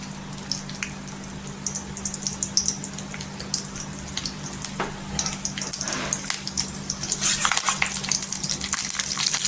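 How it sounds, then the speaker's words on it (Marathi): Curry leaves crackling in a spoonful of hot oil for a Mumbai-style bangda fish curry, a fairly quiet sizzle with scattered sharp pops and spits that grow livelier toward the end, heard alone. "कढीपत्ता पण छान असा तरतरलाय"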